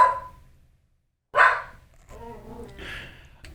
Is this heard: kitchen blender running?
no